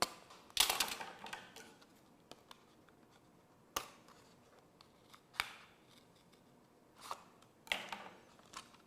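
Scissors cut paper for model rocket fins, giving a series of sharp, close snips at irregular intervals with quiet gaps between, and no talking.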